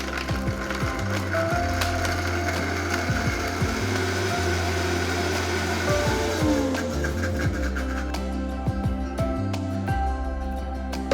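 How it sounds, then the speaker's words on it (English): A blender runs on high, whirring and grinding through garlic cloves, hard spices like cinnamon, bitter orange juice, white vinegar and salt for a marinade, a steady mechanical churn with rattling knocks throughout, no one speaking. "and blend on high"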